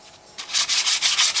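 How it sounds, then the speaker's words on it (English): Sandpaper rubbed by hand over an Opel Astra cylinder head during gasket prep, a close, loud scratchy rasp in quick repeated strokes of about a fifth of a second each. "So we're just going to go around with the sandpaper now."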